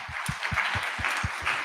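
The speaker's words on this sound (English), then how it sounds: "So let's give him a round of applause" A round of applause at a hackathon livestream, a moderate wash of clapping with a steady pulse of low thumps running beneath it, no talk.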